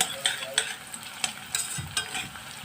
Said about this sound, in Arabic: ادي البصله بتاعتي بتتحمر تمام كده